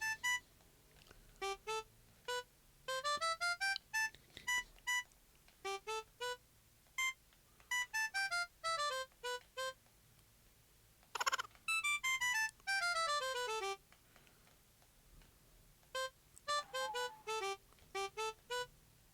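The Mario theme tune played note by note in the Animal Crossing: New Horizons video game, bright chiming tones in short melodic runs separated by pauses, clear and alone without talking.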